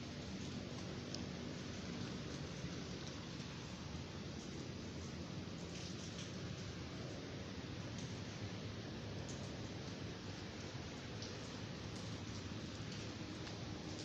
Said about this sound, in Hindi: कराची में इस वक्त बारिशों का सिलसिला जारी है